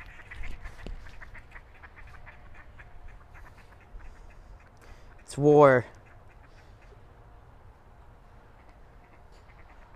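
Ducks quacking in a short, loud burst of several calls partway through, heard near over low outdoor background noise, with a person talking around them.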